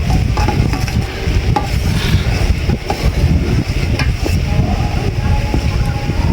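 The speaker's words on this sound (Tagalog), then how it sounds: "Yan o, medyo kumukulo na o." Bagoong alamang shrimp paste simmering in a pan, stirred steadily with a utensil, giving a continuous bubbling sizzle with scraping strokes close by at a fairly loud, even level.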